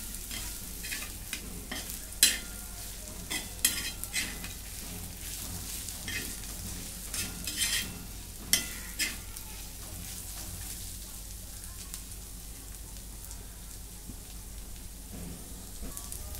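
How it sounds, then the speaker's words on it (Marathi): Coarse crushed peanuts and green chillies sizzling and frying in a pan while being stirred, a steady crackling hiss with occasional louder scrapes of the spoon against the pan. "अजून मिनिटभर असं मी परतून घेतलं कूट टाकल्यानंतर."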